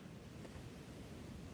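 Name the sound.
faint waves crashing on a beach shore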